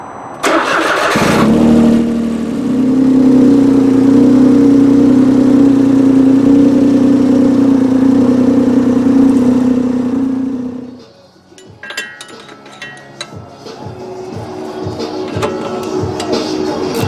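A tracked vehicle's engine cranks and catches, then runs loud and steady at close range for about ten seconds before shutting off, leaving quiet clicks and small mechanical knocks.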